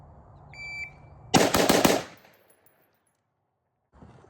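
A short-barreled 10.3-inch rifle build fires a quick string of shots, sharp cracks packed tightly together for under a second, loud and close, followed by a fading echo and near silence.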